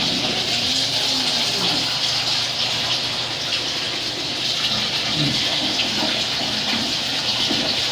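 Steady gushing water poured over a dog named Lily during her bath, a continuous close splash and trickle running for several seconds without a break, no talking.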